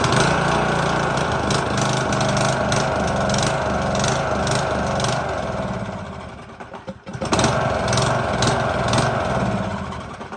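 Briggs & Stratton small engine with a Nikki carburetor starting and running, a loud close rough putter with uneven pulsing, briefly stumbling and nearly dying before picking back up.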